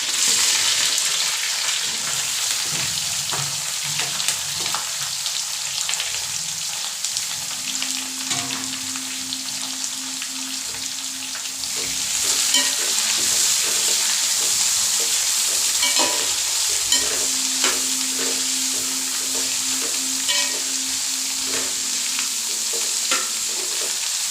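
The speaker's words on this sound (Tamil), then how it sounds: "இது நல்ல பொன்னிறம் வர்றது வர நல்லா வதக்கி எடுத்துருவோம்." Onions sautéing with curry leaves in a pan for a Tamil chicken kulambu, a steady close sizzle with scraping stir strokes throughout, no voices.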